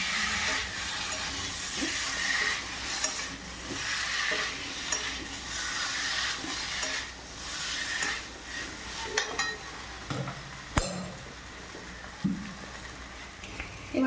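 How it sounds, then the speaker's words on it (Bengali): Spices for a Bengali dhokar dalna gravy sizzle in a pan while being stirred, a steady frying hiss with scraping stir strokes and a few sharper clinks, continuous and close with no talking. "ভালো করে নাড়তে হবে যেমন একটু মশলাগুলো কাঁচা না থাকে"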